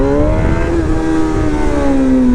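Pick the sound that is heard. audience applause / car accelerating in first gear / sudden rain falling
car accelerating in first gear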